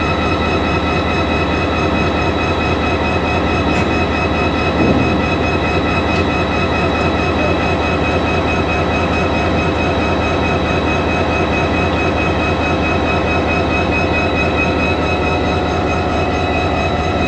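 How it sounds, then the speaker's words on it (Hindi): Freight train standing with NLC locomotive 7142 idling, a steady continuous rumble and drone that holds evenly throughout, loud and close with no talk. "एक मालगाड़ी खड़ी हुई है NLC लोकोमोटिव के साथ 7142, और बहुत ही प्यारी इसकी साउंड्स आ रही हैं"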